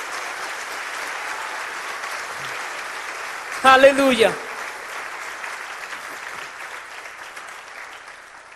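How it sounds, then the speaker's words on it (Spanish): A church congregation applauds steadily and continuously, a dense, even wash of clapping that lasts throughout, with a single voice briefly calling out over it midway. "Dale un aplauso más fuerte al Hijo de Dios"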